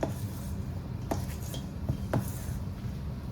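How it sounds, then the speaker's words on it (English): A spoon stirs a butter mixture in a bowl for keto biscuits, with soft scraping and a few light clinks against the bowl over steady kitchen background noise. "just stir it up with a spoon"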